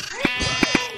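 A sheep bleats in the Minecraft video game, several short bleats in quick succession, close and clear over background game sounds.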